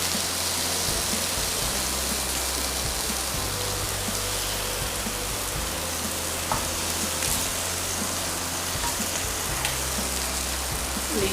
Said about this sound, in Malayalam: പുറത്ത് നല്ല മഴയുണ്ട് കേട്ടോ